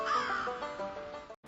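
Crow caws from a scarecrow Halloween animatronic prop, a loud harsh caw that fills the moment before cutting off abruptly into brief silence.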